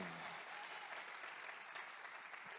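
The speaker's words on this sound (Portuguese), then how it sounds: "dê um aplauso ao Senhor" A crowd claps steadily and loudly for a few seconds, a dense, even wash of applause with no talking.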